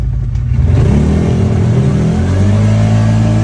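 A CFMOTO side-by-side in two-wheel drive accelerates hard, its engine note climbing steadily in pitch, loud and close throughout.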